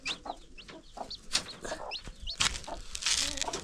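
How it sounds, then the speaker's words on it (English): Chicks and chickens chirp and cluck close by in a short, busy burst of high peeps and calls, with some background movement noise. "I heard some chicks making noise over here"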